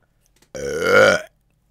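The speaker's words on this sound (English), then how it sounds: "that is our burp of the day" A single loud, close burp after drinking Pepsi Max Raspberry rolls out for under a second against silence, rising slightly before stopping abruptly.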